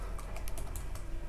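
Quick keystrokes on a computer keyboard as a website address is typed into company setup in Tally Prime accounting software, several crisp clicks in an irregular burst over a low background hum.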